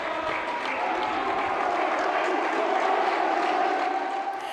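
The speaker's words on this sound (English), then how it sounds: "Those are sounds of thunderous applause at the Accra College of Education" Thunderous, sustained applause from a large crowd fills a college hall at a school quiz finale, dense and steady from start to finish with no talk on top.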